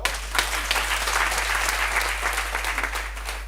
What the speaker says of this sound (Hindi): जबरदस्त तालियां बजाओ।